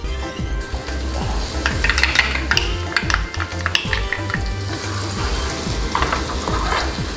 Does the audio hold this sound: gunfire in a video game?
no